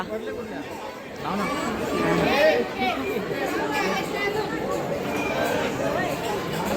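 Dense crowd of pilgrims chattering at a temple, a continuous close babble of many overlapping voices filling the space, swelling slightly in the middle, with no single voice standing out.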